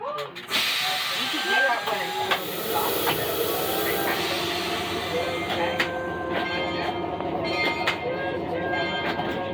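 A historic train on a museum ride starts moving, with a steady rumble, hiss and rolling wheel clatter throughout, and a voice talking over it.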